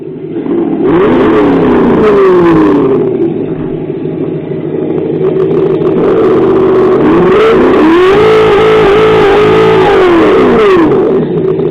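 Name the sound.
Traxxas X-Maxx RC truck with ESS engine sound system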